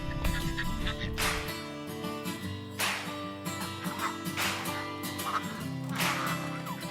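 Ducks in a pen beneath a stilt house in a village quack in several loud, close bursts spaced a second or so apart, over a constant low background hum.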